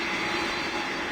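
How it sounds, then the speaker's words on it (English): An airplane approaches Greater Rockford airport with a steady, broad jet-engine roar, moderately distant and even in level throughout, heard alone without talk. "See, one plane is coming from there."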